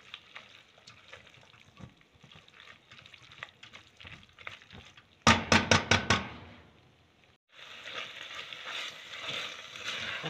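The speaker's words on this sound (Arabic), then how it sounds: "اقلب الباجلة ويا المعجون زين بالدقيقتين 3" Fava beans being stirred with tomato paste in a pan: soft scraping and sizzling, with a quick burst of sharp knocks midway and louder frying afterward.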